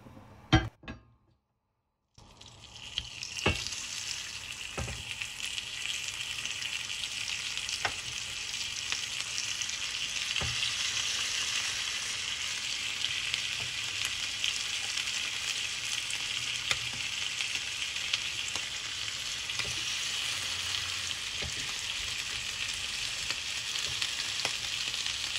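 Lamb cutlets sizzle in olive oil in a preheated pan, a steady close hiss running on after a brief silence, with a few faint clicks and scrapes on top.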